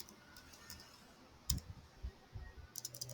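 A few soft, scattered clicks of keys on a computer keyboard, faint and close, with quiet gaps between small bursts of typing.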